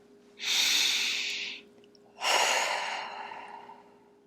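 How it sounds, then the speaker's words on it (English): A person takes two slow, audible breaths close to the microphone, each a long airy rush lasting about a second, separated by a short pause. "Now take a breath."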